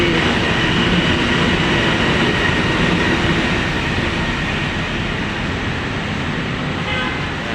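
A train rolls past close by, a loud, continuous rumble and rattle of railcars that holds steady and eases off only slightly toward the end.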